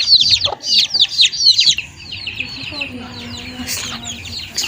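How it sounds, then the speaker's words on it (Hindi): Chickens and small chicks kept in a village yard cluck and cheep close by, with a busy burst of bright peeping and clucking that settles into quieter calls and a low drawn-out cluck. "तो इनके पास मुर्गियाँ भी हैं और चूज़े भी रखे हुए हैं।"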